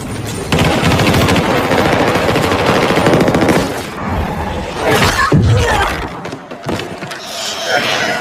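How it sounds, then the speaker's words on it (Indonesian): Sustained heavy-weapon gunfire from a 2016 supernatural action film battle scene, loud dense bursts of rapid automatic fire with crashing impacts and roaring effects, thinning into scattered shots and debris near the end. "sersan pun memerintahkan mereka menggunakan senjata berat untuk melumpuhkan target tersebut"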